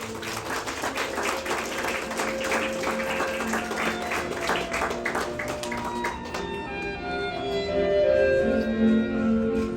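Wedding guests applaud in a steady wash of clapping that fades after several seconds, giving way to sustained musical tones and a few voices.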